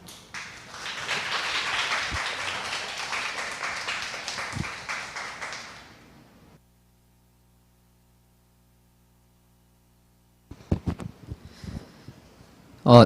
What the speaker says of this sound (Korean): 여러분, 작가님을 큰 박수로 맞아보겠습니다